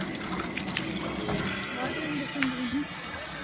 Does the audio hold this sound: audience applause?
no